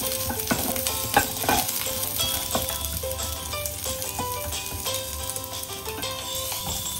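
Long beans stir-fried in a frying pan give a steady, loud sizzle with scattered scraping and rattling from stirring, the texture dense and continuous throughout.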